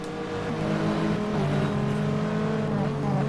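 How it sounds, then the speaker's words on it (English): A loud race car engine drones close behind the player in a 2000 FIA GT race at Silverstone in a racing video game. Its pitch shifts as it revs, with a steady bed of track noise throughout. "Oh god, there's a loud car behind me."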